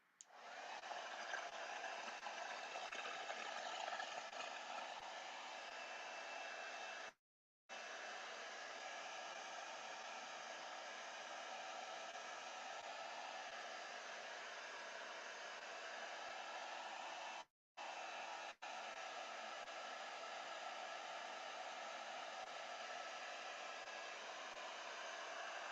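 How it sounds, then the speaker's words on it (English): A heat gun blows hot air steadily to dry a journal cover, a loud, continuous close whoosh that cuts out briefly twice and then resumes. "All right, heat gun."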